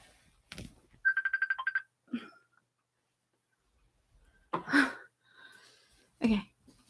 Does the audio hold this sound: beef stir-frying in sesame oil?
no